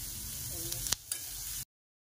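Chopped onion frying in a pan for misal, a steady close sizzle that runs alone for about a second and a half before cutting to silence, with a couple of brief clinks of a utensil.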